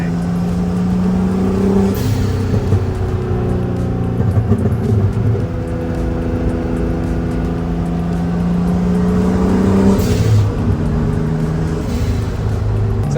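Boosted Honda NSX V6 engine revving steadily with loud, sustained harmonic drone that rises and swells near two and ten seconds, dense and close throughout.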